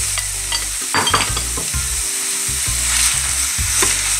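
Minced meat sizzles and fries steadily in a pan, with soft stirring scrapes and clinks throughout, close and continuous with no talking.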